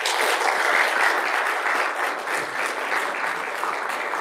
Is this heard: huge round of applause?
yes